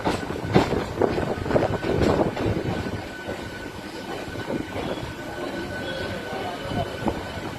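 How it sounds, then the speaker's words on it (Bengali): A passenger train pulls into Tarakeswar station in West Bengal, its wheels rumbling and clattering over the rails close by, with a faint tonal hum and distant voices on the platform. "ট্রেন প্রায় একদম রাইট টাইমই ট্রেনটি ঢুকল তারকেশ্বরে"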